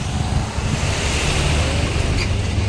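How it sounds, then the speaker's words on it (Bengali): Wind blows outdoors at Dipor Bil lake in Assam, a loud continuous rushing gust buffeting the microphone with a low rumble underneath. "আর পুরো হাওয়া দিচ্ছে, মজা লাগছে এদিক থেকে"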